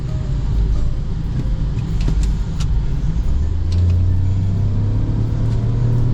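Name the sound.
Peugeot 2008 car engine accelerating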